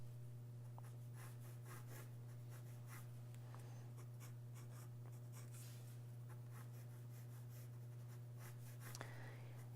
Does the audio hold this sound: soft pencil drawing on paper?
yes